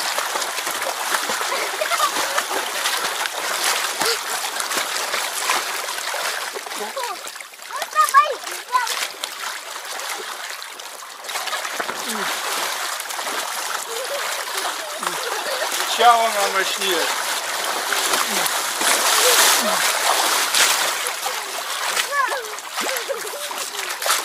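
Water splashes and sloshes continuously as waves are churned up in an Intex frame pool, with children and an adult talking and shouting over the steady splashing.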